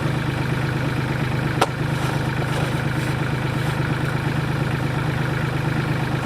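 A small farm tractor's engine runs steadily at idle, close and continuous, with one brief sharp knock partway through and no talking.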